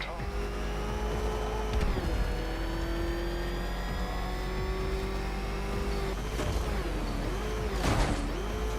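The Batmobile's engine in Batman Arkham Knight hums and revs, its pitch climbing and dropping in several surges, with a whirring drone throughout and a voice talking over it.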